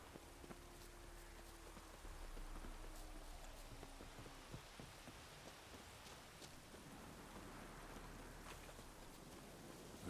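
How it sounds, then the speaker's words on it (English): Rain falls steadily in The Witcher 3, a soft, even hiss of drops on the ground, fairly faint with a few brighter patters and a low hum underneath. "That's rain."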